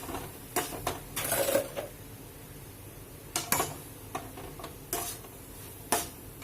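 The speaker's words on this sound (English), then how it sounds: "Mix it well until it get complete mix with the masala." A spatula stirs crushed potato into masala in a hot pan, giving scattered scraping clatters and light sizzling, close and moderately loud, with no talking.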